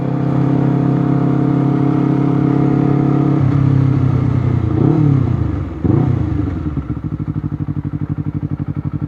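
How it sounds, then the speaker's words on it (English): A Honda CBR 250RR twin-cylinder sport bike roars close and loud, its engine note climbing and dropping through several gear changes before settling into a pulsing, throbbing idle. "every time you change a gear you feel the bike have much more power coming up"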